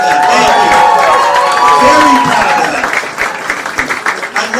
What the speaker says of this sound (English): You should clap for that.